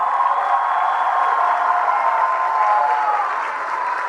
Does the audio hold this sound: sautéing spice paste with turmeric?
no